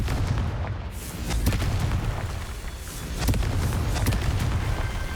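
A Confringo spell explosion in the Hogwarts Legacy video game, deep rumbling blasts and booms with a surge of force partway through, loud and close over a constant roar.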